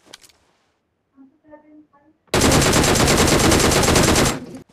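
Machine gun fire in a battle royale video game, a dense, loud sustained burst lasting about two seconds after a few soft voice sounds and brief quiet moments.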